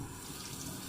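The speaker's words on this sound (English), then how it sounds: "So I'm just going to do a warm water pass now" Steady stream of warm tap water running into a sink during a wet shave, a close, continuous even rush with no talk over it.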